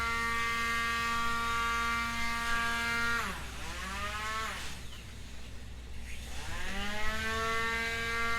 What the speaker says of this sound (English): It's ironic the one that sounds like a vacuum cleaner isn't Kirby